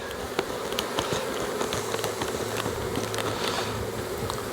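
Honeybees buzz around an open hive during an inspection, a dense close swarm hum with scattered crackles and knocks from handling frames.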